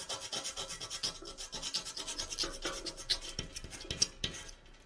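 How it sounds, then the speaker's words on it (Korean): A lotus seed being rubbed steadily against sandpaper to wear through its hard coat, a close, quiet scratchy rasp repeating in short strokes with no talking. "우리 어린이 친구들은 이렇게 사포로 씨앗을 계속 갈아주세요."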